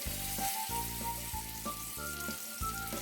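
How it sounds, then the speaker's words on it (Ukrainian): Buckwheat patties with meat and mushrooms fry in hot oil in a pan, giving a steady close sizzle with a series of brief rising tones over a low hum. "На пательні розігріваємо олію і викладаємо"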